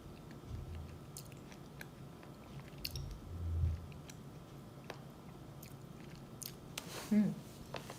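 Food chewed close up during a small at-home mukbang, with soft, quiet chewing and biting noises scattered over a low room hum and a brief louder bite near the end.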